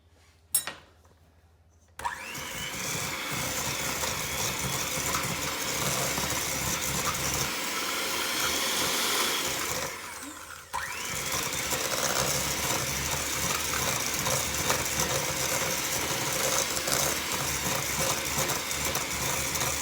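An electric mixer beats butter and cookie dough for chocolate chip cookies, a steady whirring drone that runs unbroken through most of the stretch and dips only briefly midway.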